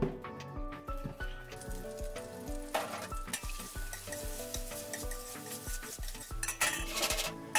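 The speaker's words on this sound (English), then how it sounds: "Add chopped onions after a little warming of olive oil." Chopped onions frying in warmed olive oil in a large, deep pot, giving a soft sizzle with occasional utensil clinks and stirring, while tonal music plays over it.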